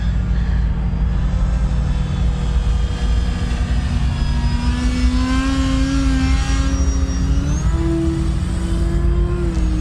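A Turbo Timber Evolution RC model airplane on floats with a 13x4 propeller drones steadily overhead, its electric motor whine rising in pitch as the throttle opens, loud and continuous.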